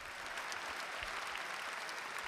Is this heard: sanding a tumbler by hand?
no